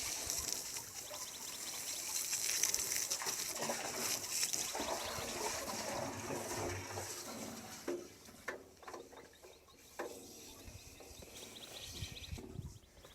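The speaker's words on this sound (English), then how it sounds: "you got some noise from that water there" Steady rushing, trickling water from a septic system water test fills the clip, fairly loud and continuous, with some splashing bursts toward the end and no talking.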